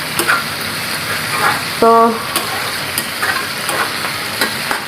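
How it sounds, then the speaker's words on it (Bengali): Onion and chili frying in oil in a home kitchen, producing a steady broadband sizzle that continues throughout. Brief clatters of utensils and a short burst of speech rise above the frying. "এখানে আমি শাক ভাজি পেঁয়াজ মরিচটা ভেজে নিচ্ছি"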